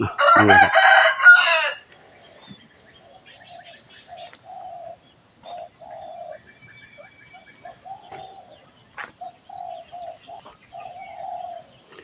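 A rooster at Wat Pong Chai temple in Chae Hom, Lampang, lets out one loud, close crow, followed by softer scattered clucks and bird calls over quiet surroundings.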